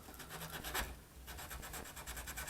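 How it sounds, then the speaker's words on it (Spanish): Sandpaper rubs across a burnt spot on a small wooden rudder piece from a model ship, giving faint, close rasping strokes in a steady back-and-forth rhythm. "la lijamos,"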